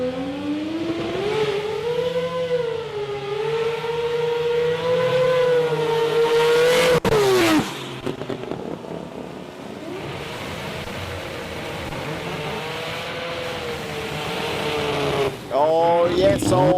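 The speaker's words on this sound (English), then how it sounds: "New South Wales Fire Detection Mazda 6. It's been improving as the day goes on" Mazda 6 rotary-powered drag car with a 20B engine at a sports compact drag racing event, revving hard through the gears with rising and dropping pitch sweeps, loud and close, with a track announcer talking over it.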